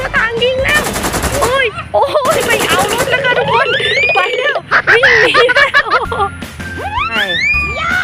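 Rapid bursts of machine-gun fire from a toy tank in a chase scene, two loud rattling volleys near the start, heard beneath excited, high-pitched talking that continues throughout.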